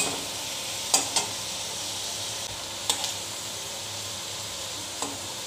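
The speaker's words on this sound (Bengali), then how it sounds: "আমি এখন আলুটাকে ভেজে নিচ্ছি একটু লবণ দিয়ে" Potatoes fry with salt in a pan, giving a steady soft sizzle with a few brief clinks of stirring, close and fairly quiet.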